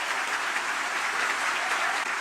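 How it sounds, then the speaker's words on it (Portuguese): Audience applause at a Brazilian political talk on journalism, the crowd rising to its feet; dense, steady clapping fills the whole short stretch, loud and continuous with no talk over it. "Vocês merecem, junto com o Davi H, a maior salva de palmas por estar fazendo o trabalho"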